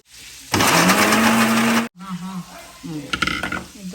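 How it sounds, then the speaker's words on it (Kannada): A kitchen grinder whirs loudly while grinding coconut for laddu, a steady motor roar lasting over a second before stopping abruptly, followed by talking and a few clattering knocks. "ಗ್ರೈಂಡ್ ಮಾಡಲಿಕ್ಕೆ ಫಸ್ಟ್ ಅದನ್ನು ಗ್ರೈಂಡ್ ಮಾಡೋದು"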